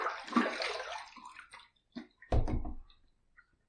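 A razor is rinsed under running water during a shave, with a close splashing rush of water, a short pause and a second brief burst of flowing water.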